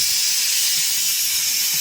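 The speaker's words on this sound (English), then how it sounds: "let out the steam" Steam hisses steadily and loudly from a pressure canner just taken off the stove after cooking chicken broth, a continuous close rush with no pauses.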